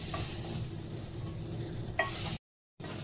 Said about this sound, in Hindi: इनको हमने तब तक भूनना है जब तक ये थोड़ी ब्राउन ना हो जाए